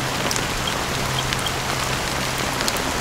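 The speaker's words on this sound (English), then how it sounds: "So, how long has this rain been going on for?" Steady rainfall in the video game Honkai Star Rail, a dense even patter of drops on surfaces filling the scene at close range, with no voices.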